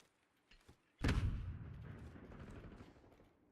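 Gunfire during an esports video game match: one sudden loud shot or burst cuts in after a short quiet stretch and leaves a rumbling tail that slowly fades, with a few faint clicks just before it.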